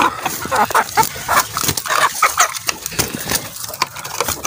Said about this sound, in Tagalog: sunod-sunod yung tuka nila